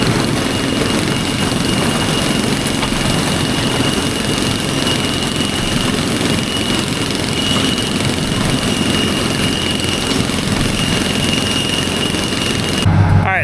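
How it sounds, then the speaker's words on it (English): A New Holland 353 mixer grinder runs steadily and loud at close range, a constant dense mechanical roar with no breaks, on a cattle farm before weaning calves. "New Holland 353 mixer grinder is running okay."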